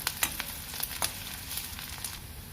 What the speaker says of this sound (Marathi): एक मीडियम साईजचा कांदा आहे हा याला या कांद्याला छान ब्राऊन होईपर्यंत आपल्याला परतून घ्यायचं आहे